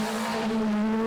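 Peugeot 306 Maxi rally car at full throttle on a rally stage at Snetterton, its engine holding a loud, steady high-revving note close up, with a brief hint of tire scrub.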